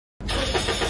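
Car engine cranking without catching: a starter whirs steadily from silence after a short pause, loud and close, with no engine firing.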